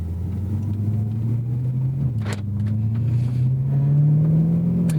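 A 2010 BMW M3 E90 with its V8 engine, running in comfort mode, holds a loud, close, steady low drone whose pitch climbs gently as the revs rise slightly.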